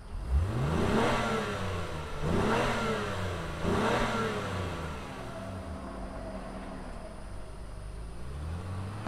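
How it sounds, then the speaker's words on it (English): A 2025 Honda Pilot Black Edition SUV engine fires up and revs hard three times in quick succession, each rev swooping up and falling back, then settles into a steady idle close by. "let's fire it up and hear what it sounds like out of the fake exhaust"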